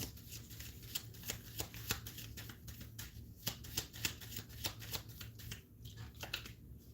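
Tarot cards shuffled by hand at close range, a quiet run of rapid papery riffles and soft snaps repeating steadily with no voices over them.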